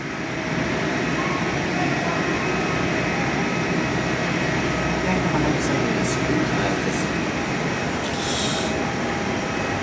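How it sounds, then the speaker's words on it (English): A Jetstar Airbus A320 airliner produces a steady, broad engine roar with no clear rise or fall, heard from an indoor viewing area at Perth airport. "The airline is a Jetstar, a normal A320, which is quite rare now."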